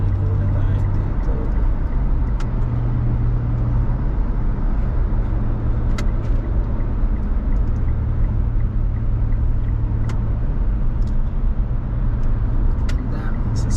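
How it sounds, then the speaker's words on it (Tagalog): Heavy road traffic on a busy Dubai road, many cars passing in a constant loud low rumble with a steady engine drone and occasional brake hiss, close by throughout. "Ang daming sasakyan."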